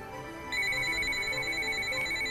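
Cellular phone ringing as a call comes through a two-channel VoIP to GSM gateway, a steady electronic ringtone starting about half a second in and sounding continuously, fairly close, with no talking.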